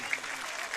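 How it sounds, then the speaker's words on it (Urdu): An audience claps briefly for children at a school performance, a short burst of steady, moderately faint applause. "ذرا زوردار تالیاں بچوں کے لیے جو ہے نا ہونی چاہیے"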